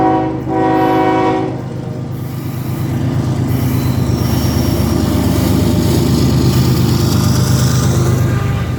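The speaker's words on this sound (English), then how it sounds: "And we got an eastbound coming up. It's the Z train." A Union Pacific eastbound Z intermodal freight train rolls past at Bowman, its diesel locomotive rumbling loud and close while a horn sounds briefly at the start, then a steady roar of wheels and cars continues.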